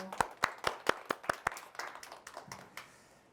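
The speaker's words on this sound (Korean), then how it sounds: "환영의 박수 부탁드릴게요" A small audience at a domestic-violence crisis-support staff training claps in welcome: about seven crisp, evenly spaced claps like a few people together, then a sparse, fading patter that trails off, with faint murmuring near the end.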